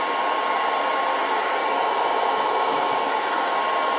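A hair dryer blows continuously at close range, a loud, steady whooshing whine with no break and no talking.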